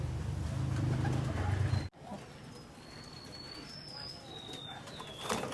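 Racing pigeons coo close by at a loft and aviary, a steady low murmuring that fills the first two seconds, then fades into softer background cooing with faint chirps.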